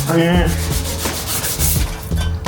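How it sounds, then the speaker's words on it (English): Rubbing and sanding strokes across a car door panel, from a drift-built Mazda MX-5 being repaired, with a steady scraping texture repeating through the moment and a brief tonal hum underneath. "And then Chris is sanding the door."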